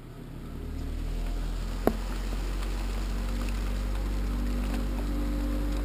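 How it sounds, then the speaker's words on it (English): An exhaust fan system used for bathtub refinishing runs as a steady, loud, low droning whoosh, with one brief knock partway through and no speech. "So we'll actually turn the exhaust system on."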